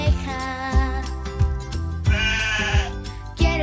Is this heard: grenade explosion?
no